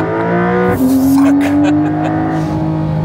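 Porsche 911 or similar launch control start with left foot on brake and full throttle, engine note rising steadily as the car surges off the line, loud and close, with brief exclamations over it.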